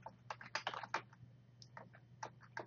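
Keystrokes on a computer keyboard, a quiet, irregular patter of clicks in short bursts with brief pauses between, heard alone with no talk.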